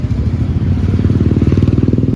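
Three motorbikes idle and rumble together close by on a Saturday outing near Kaskikot, a steady low engine drone with a pulsing, throbbing beat that quickens toward the end, no talk over it.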